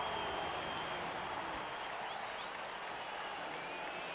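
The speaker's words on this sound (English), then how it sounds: "Cheering fans." Stadium crowd of fans cheering in the Blood Bowl fantasy football video game during a Dungeonbowl kickoff, a steady, dense roar and clapping that holds evenly loud for the whole stretch.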